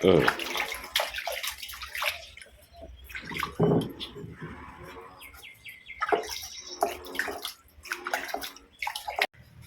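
Water poured over cleaned fish in a bowl while making a Tilapia fish curry cooked on a wood-fired stove outdoors: splashing and trickling at close range, under intermittent talk, with birds chirping in the background.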